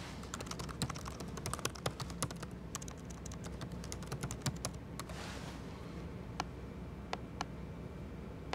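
Computer keyboard typing while answers are entered into an online Google Form survey, a steady run of light, irregular key clicks close up over a faint hiss, thinning to a few isolated taps near the end.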